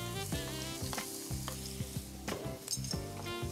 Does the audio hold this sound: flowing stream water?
no